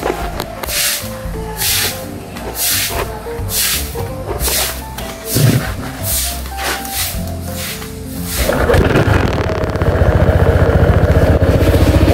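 A vehicle engine turns over after some scraping, hissing bursts, then catches and keeps running with a loud, steady drone through the final seconds.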